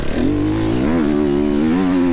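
An enduro motorcycle rides a dusty, bumpy sprint-enduro track, its engine droning loud and close with a steady revving pitch that climbs and dips slightly.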